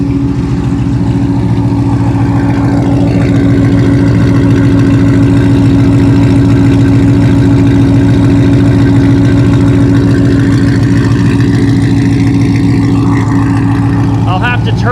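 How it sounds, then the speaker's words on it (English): A C7 Corvette with a loud aftermarket exhaust idling close by, a deep, steady, pulsing burble that stays loud throughout, with a voice talking over it. "That exhaust is absolutely stupid loud."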